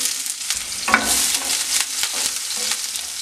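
Onions hit hot oil with popping mustard seeds, a loud sizzle bursting up and then holding as a steady crackling hiss with scattered pops and stirring scrapes.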